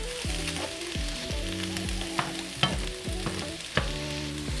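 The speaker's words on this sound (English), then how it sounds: "I'm basically just going to continue to work this burger and onion mixture over here until it is browned and mixed together" Ground beef and onion browning together in a pan for chili mac and cheese, a steady close sizzle broken by repeated scraping stirs and a few sharp clacks of the utensil against the pan.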